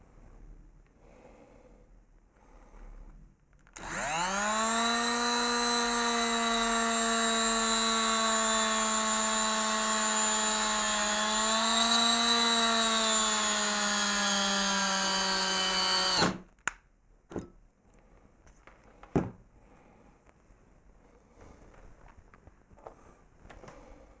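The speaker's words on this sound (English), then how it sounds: "I need to move that about here to drill the hole." A power drill starts abruptly and whines steadily for about twelve seconds drilling a hole in a Curta calculator shaft, its pitch dipping slightly under load, then stops, followed by a few sharp knocks.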